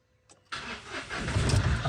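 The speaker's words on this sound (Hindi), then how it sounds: "अब गाड़ी को स्टार्ट कीजिए सर।" A Mahindra Bolero Power Plus with an engine warning light and a pick-up problem starts up close by: a brief crank, then the engine catches and settles into a loud, steady idle.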